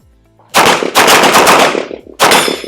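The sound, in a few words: gunshots in competition shooting transition drill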